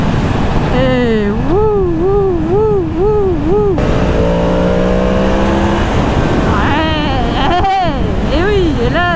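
A 2022 Yamaha MT-10 SP motorcycle revs its engine in repeated rising and falling sweeps, loud and close with wind noise, and someone talks briefly over it in the middle.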